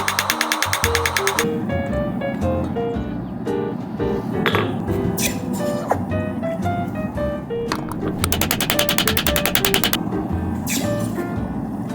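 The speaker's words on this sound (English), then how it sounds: "As I hammer the copper, it compresses and hardens" Copper is hammered while forging a mushroom shape, with rapid, ringing metallic strikes in quick bursts at the start and again later, and scattered clinks between them over a dense background clatter.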